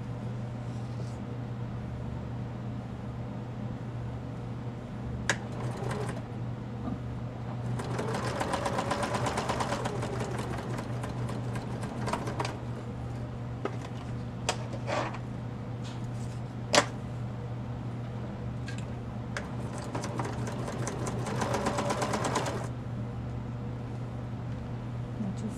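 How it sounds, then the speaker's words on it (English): Sewing machine stitching a paper-bag mini journal with a zigzag stitch, a close mechanical whir running in several bursts of varying length over a steady hum. "Okay, we'll just start sewing with this one."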